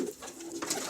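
Budapest pigeons, including a red bird, give a short soft coo close up, a single rolling throaty call with a slight rise in the middle.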